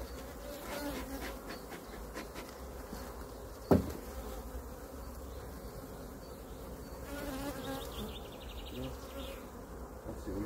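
Honeybees hum continuously from an opened hive during a move from a nucleus box to a full hive, a dense close buzz with one brief knock partway through.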